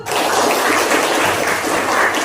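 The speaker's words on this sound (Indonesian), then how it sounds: "beri tepuk tangan dulu." Children in a classroom clap their hands together in a burst of lively, dense applause that starts abruptly and holds steady, close and fairly loud.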